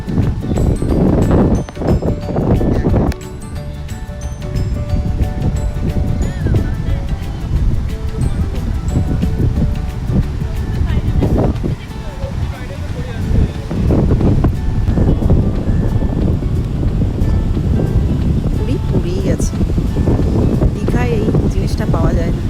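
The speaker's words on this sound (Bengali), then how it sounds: "আমরা এখন সমুদ্রের ধারে একটু হাওয়া খেতে এলাম" A sea breeze blows on the beach by the lighthouse at Puri, buffeting the microphone with a continuous low roar. Surf washes faintly underneath, and voices are heard talking throughout.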